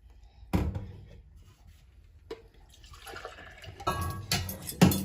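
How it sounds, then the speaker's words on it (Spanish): Milk is poured for a pinol milkshake in a home kitchen, a soft splashing fill that starts with a thud, pauses, then builds in quiet bursts toward the end. "Para la malteada de pinol voy a agregar siempre una taza y media de leche"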